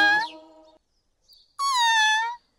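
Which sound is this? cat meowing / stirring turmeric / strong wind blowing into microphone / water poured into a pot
cat meowing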